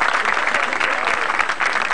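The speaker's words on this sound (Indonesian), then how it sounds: "Oke, tepuk tangan dulu." A crowd claps at a lively event where President Jokowi sings and jokes, a brief, dense and even burst of applause with no pause.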